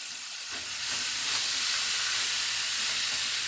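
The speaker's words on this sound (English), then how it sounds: "I've got the oil hot, and I'm going to take my meat, and we're going to brown the meat" Chuck and ground beef browning in hot oil, a steady loud sizzle and hiss that swells after the meat goes in and holds evenly, close up with no talk.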